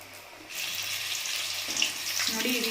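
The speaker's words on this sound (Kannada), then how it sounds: "ಇವಾಗ ಇದನ್ನ ಎಣ್ಣೆ ಡೀಪ್ ಫ್ರೈ ಮಾಡ್ಕೊಳ್ಳೋಣ" Coated chicken popcorn drops into hot oil for deep frying over a medium flame. A bright, hissing sizzle starts abruptly and continues steadily, growing slightly busier.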